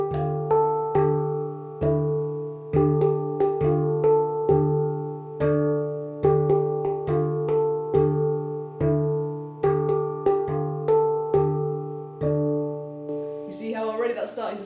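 A handpan (RAV) is struck with the left hand on every beat, giving a steady pulse of ringing metallic tones, close and clear; near the end a brief brushing texture enters.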